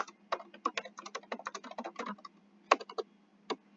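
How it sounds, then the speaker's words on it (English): Quick, irregular keystrokes on a computer keyboard, close and crisp, with short pauses between bursts of typing. "Wait, let me just type it down."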